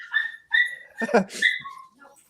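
A schipperke dog whimpers in high, drawn-out whines and lets out a short bark, the sounds coming close and fairly loud in brief bursts with no talking.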